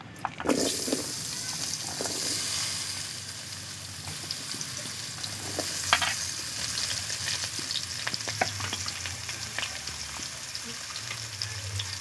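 Thinly sliced potatoes dropped into hot oil in a pan, a loud continuous frying crackle and sizzle with occasional stirring clinks, close and steady throughout.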